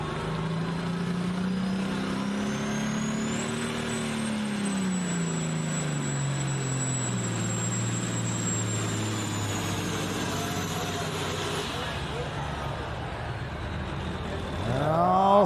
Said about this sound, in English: Oh, something not sounding right in that tractor.